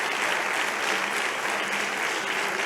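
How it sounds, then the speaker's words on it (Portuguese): An audience in a church bursts into sustained applause, a dense, even clapping from many hands that continues throughout at a steady loudness. "Uma salva de palmas."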